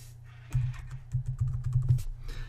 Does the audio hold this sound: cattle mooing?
no